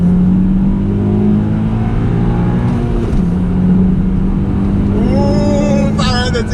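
Two Honda Accord CL9 cars accelerating side by side in a race from a countdown start, steady engine drone with rising revs throughout, a brief shift near the middle and a higher whine building toward the end.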